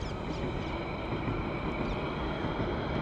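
Steady, loud rumble of a London Underground Central Line train in motion, broadband roar with a faint high whine, continuous throughout with no talking.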